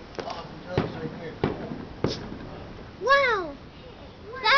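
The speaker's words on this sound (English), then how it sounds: "That was a firework!" Fireworks thump and crackle at a distance during a 2012 outdoor display, several separate faint bangs spaced out, with children's voices chattering and squealing nearby.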